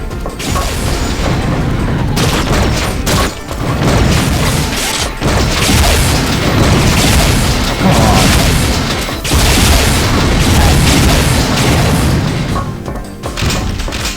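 Explosions and blasts from the Unreal multiplayer game on the DM-Letting map, a dense run of loud booms, crashes and mechanical clatter filling the whole stretch with brief dips between bursts.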